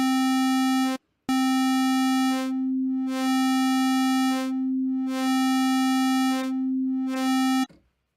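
A synthesizer oscillator holds a steady tone while a slow LFO modulates it, so bright upper harmonics swell in and out in regular cycles about once a second. A brief break comes near the start, then the note cuts off at the end.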